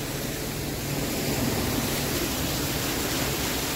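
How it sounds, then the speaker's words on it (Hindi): Waterfall on the Kedarnath trek above Gaurikund, a steady broadband rush of falling water heard close and continuous, with no talk over it. "ये देखिए कितना प्यारा झरना"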